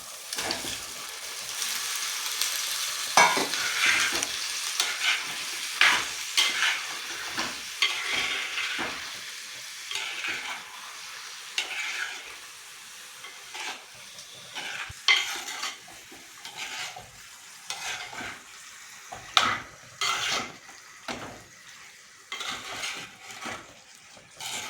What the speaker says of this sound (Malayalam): അതിലേക്ക് ഇറച്ചി ഇടുകയാണ്